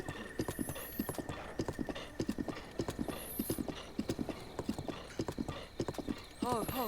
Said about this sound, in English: the horse was starting to freak out